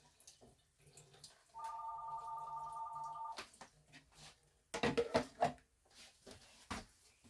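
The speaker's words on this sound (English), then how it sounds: "that's what happens when your house phone rings and you have your water going" A house phone rings in a kitchen, a steady electronic tone lasting about two seconds, followed by scattered clatters and knocks of dishes and a drainer nearby.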